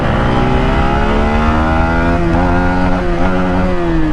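A 2026 motorcycle, a Duke 200 or MT-15 DLX, revving hard with the clutch held in before a drag race, a loud close engine rising and falling in pitch throughout, no speech.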